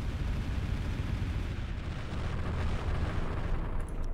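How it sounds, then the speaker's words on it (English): A continuous EMP barrage fires in the sci-fi strategy game Final Theory, a dense, loud rumbling roar of overlapping blasts that holds steady for about four seconds with no voices. "EMP barrage"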